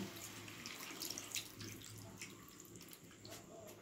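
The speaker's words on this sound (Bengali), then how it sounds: "এবার আমি এটার মধ্যে জল দিয়ে দেব। জল দিয়ে দিলাম।" Water poured into potato curry in a pot, a soft continuous splashing and trickling that stays fairly quiet and even, with no one speaking.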